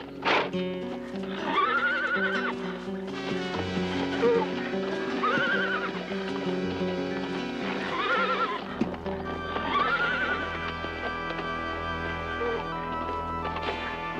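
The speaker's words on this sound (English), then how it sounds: "He has a horse brought to him, knowing that to them, this is a beast of the most fearsome proportion." A horse in a scene of the Spanish conquest of the Aztecs whinnies several times, shrill and close, while hooves clip-clop steadily beneath a dramatic orchestral score.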